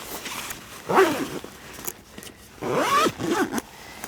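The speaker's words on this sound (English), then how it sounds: "and zip it up." A camera bag is zipped shut outdoors in winter, with two quick rising zip strokes close up, separated by a short pause.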